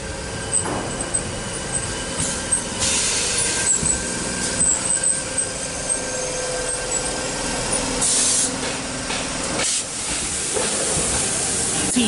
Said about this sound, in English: Hornsby service arriving into platform number 3.